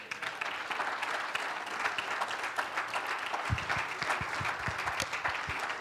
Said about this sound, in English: Let's give the clap offering.